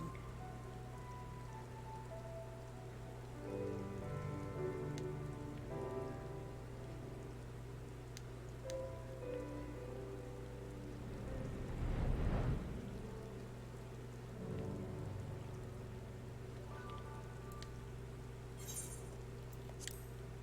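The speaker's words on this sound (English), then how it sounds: "However, it's raining." Steady rain falls across a Final Fantasy XIV landscape at the Ruby Sea, a soft continuous wash with scattered droplet patter and a low rumble swelling midway, with no voices.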